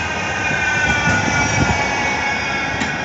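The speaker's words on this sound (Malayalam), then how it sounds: "ഒരു ട്രാം വരുന്നുണ്ട്." A tram approaches along a Manchester street, producing a steady, loud rolling rumble with a faint metallic squeal near the end.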